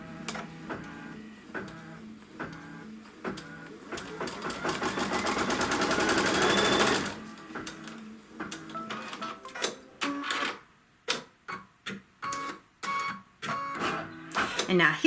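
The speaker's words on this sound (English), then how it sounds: "now it's going to sew the trim line again" An embroidery sewing machine stitches a trim line on a Kimberbell quilt block, its rapid mechanical needle chatter running steadily, swelling into a dense whir midway, then breaking into short stop-start bursts near the mic.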